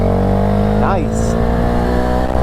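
A motorcycle rides off while a steady engine drone hums continuously, with a brief rising sweep partway through.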